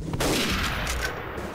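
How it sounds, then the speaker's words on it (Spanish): Gunfire in the World War II shooter game Day of Defeat, a dense burst of rapid shots blending into a continuous rattling roar over about a second and a half. "Es que se oyen los tiros"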